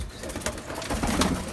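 Ambersire pigeons cooing nearby in a loft, low soft throaty coos over a dense, close bird-filled background with no talking.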